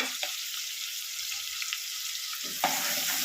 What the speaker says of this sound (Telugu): ఇది బాగా ఫ్రై అవ్వాలి. కొంచెం లైట్ బ్రౌన్ అయ్యేంత వరకు ఇది ఫ్రై చేసుకోవాలి.